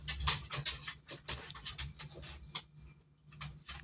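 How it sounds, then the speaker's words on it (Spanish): Soft, rapid tapping and scratching of a small dog's paws moving across a floor, with faint panting, quiet and close in a still room. "esa que escuchan de fondo es mi perrita caminando"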